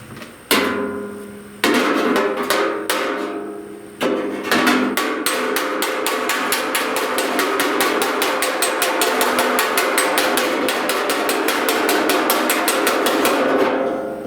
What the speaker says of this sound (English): Now I'm going to use my flat hammer because the curve is just the way, and I'm hammering on the outside of the